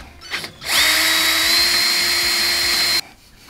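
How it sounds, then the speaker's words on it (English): A power drill drilling into a metal block runs steadily at high pitch for about two seconds, loud and close, then stops abruptly; brief clatter before it starts. "So I just need to try to drill the hole in the block."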